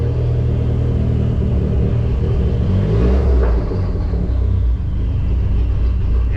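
A Dodge SRT-4 engine running lean, as if starved of fuel, gives a loud, close, continuous rumble with uneven swells where the idle stumbles.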